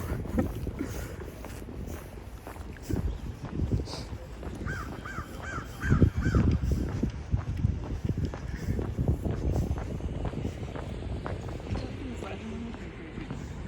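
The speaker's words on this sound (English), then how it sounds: "That crow is laughing at us." A crow caws a few times in quick succession on a college campus, heard at moderate distance under people talking and footsteps while walking downhill outdoors.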